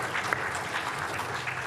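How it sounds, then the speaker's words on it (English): An audience at a closing session after a panel breaks into steady applause, a dense wash of many hands clapping at once that holds evenly through the brief moment. "So please give him a round of applause."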